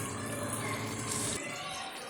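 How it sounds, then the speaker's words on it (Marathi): Water poured into pav bhaji vegetables in a pan, a brief steady gushing pour that cuts off partway, close, over a low bubbling hiss. "आता यामध्ये थोडं पाणी घालून घ्या।"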